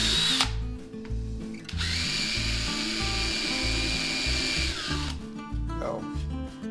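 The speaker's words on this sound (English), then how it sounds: "These are going to be huge screws going in here" Power drill driving large screws into a wooden crosscut sled, two bursts of steady high whine with a brief pause between, close and fairly loud.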